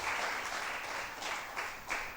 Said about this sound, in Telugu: చప్పట్లు కొట్టి దేవుని మహిమ